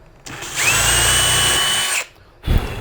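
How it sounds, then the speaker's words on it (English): A power drill boring a bolt hole in a guitar neck whines steadily for about a second and a half, close and loud, then stops; a brief second burst starts just at the end. "Nice technique on the drilling."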